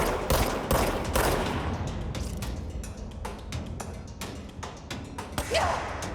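Gunfire in the video game Control, rapid bursts of sharp shots and thuds, loud and close at first and then a steadier spatter of repeated shots over several seconds, with no talk.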